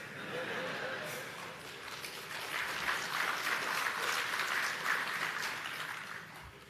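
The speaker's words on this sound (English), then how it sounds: "You shouldn't be clapping too loudly." At a digital transformation summit, a conference audience claps softly, and the scattered applause swells a little in the middle before easing off, heard at a distance in a large hall.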